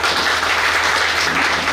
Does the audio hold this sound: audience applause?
yes